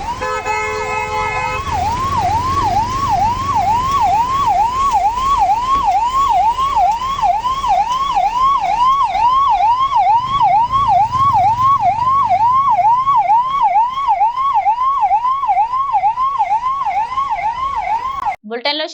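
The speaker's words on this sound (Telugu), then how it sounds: "108 అంబులెన్స్ వాహనం ట్రాఫిక్ లోనే ఇరుక్కుపోయి గంటల తరబడి వేచి చూడవలసి వచ్చింది." A 108 ambulance stuck in a highway traffic jam sounds its wailing siren, a loud rapidly cycling yelp that runs steadily for about eighteen seconds, with a brief horn-like blast at the start and low traffic rumble beneath.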